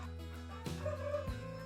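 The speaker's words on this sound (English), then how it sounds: "hatch these old standard bred turkeys" Heritage breed standard turkeys gobble and call close by, a loud, rippling burst followed by another quick gobble, with no talking over them.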